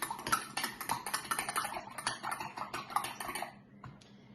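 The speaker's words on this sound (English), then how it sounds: "So I'm going to put my 1 teaspoon of vanilla into the egg. And I'm going to give that another little mix." A utensil whisks vanilla into an egg in a bowl while baking cookies, a fast steady run of close clinking, tapping strokes that stops abruptly near the end, with no talking.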